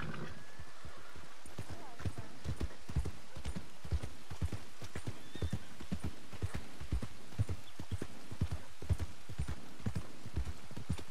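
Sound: horse hooves clip-clopping, from the video game Red Dead Redemption 2

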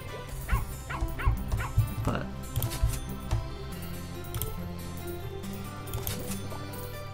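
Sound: dog barking in the video game Plantera

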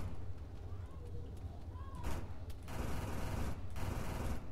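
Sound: gunfire in a video game

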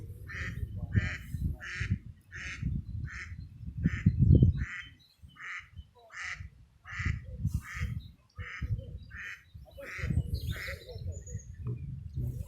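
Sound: ducks quacking on a pond

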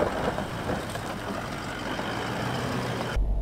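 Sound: Toyota Landcruiser 200 driving back down a hill

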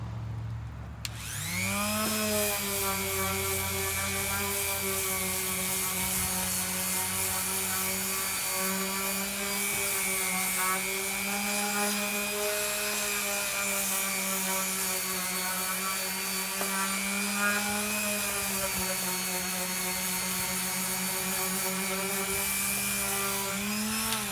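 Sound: sanding old barn wood

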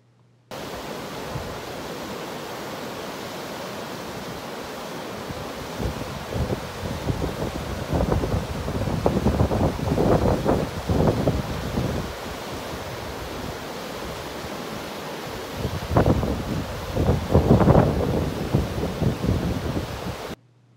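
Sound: waterfall and wind in Yosemite

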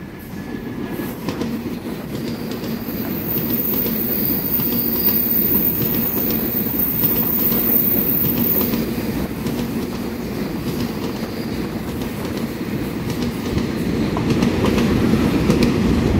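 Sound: EMU3000 twelve-car electric express train passing

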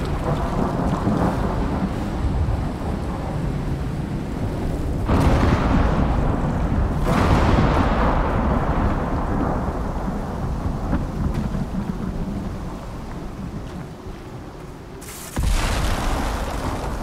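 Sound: thunderstorm with thunder and rain in Icarus video game

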